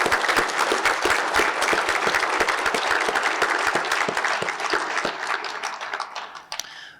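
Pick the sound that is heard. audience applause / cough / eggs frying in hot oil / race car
audience applause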